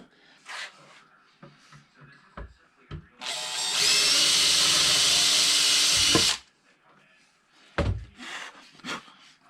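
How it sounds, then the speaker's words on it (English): A power drill whines loudly for about three seconds while drilling a hole to mount a Humminbird Helix 7 G3 fish finder for ice fishing, bracketed by quiet clicks, taps and handling noises before and after. "Always drill your hole smaller."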